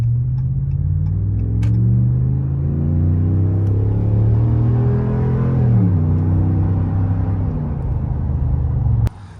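A Ram 1500 pickup's deep exhaust with a Magnaflow muffler drones steadily, then swells louder as the throttle opens, the rumbling note rising and falling as it accelerates before cutting off abruptly.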